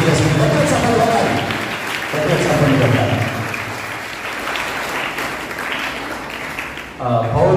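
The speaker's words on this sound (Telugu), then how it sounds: "గట్టిగా చప్పట్లు పెట్టాలి." Congregation at a Holy Mass in Proddatur clapping loudly for the priest, a sustained dense round of applause that carries on under a man's speech and briefly dips before resuming.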